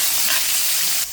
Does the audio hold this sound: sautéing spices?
yes